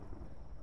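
A thunderstorm in the Tomb Raider video game gives a brief deep rumble with a muffled, rolling low roar, loud and dense, with no speech.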